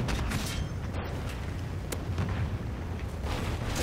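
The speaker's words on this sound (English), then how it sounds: "Trinity rocket inbound" Trinity rocket strike in Call of Duty: Ghosts, Domination on the Sovereign map: a continuous, dense roar of explosive rumble and blast noise, loud and sustained throughout.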